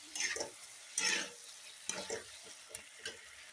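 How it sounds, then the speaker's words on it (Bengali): Radhuni spice being stirred into a kohlrabi curry in a pan, with soft scraping bursts of stirring over a light sizzle, coming in a few separate strokes close by. "রাঁধুনি এটা দিয়ে দিচ্ছি, নেড়ে দিচ্ছি ভালো করে, সুন্দর করে"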